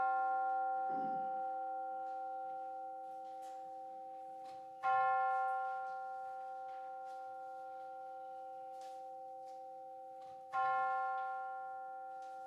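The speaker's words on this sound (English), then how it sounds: "we will center our hearts and minds with the ringing of the bell" A church bell opening a worship service is struck three times at even intervals, each strike ringing clear and sustained before slowly fading into quiet.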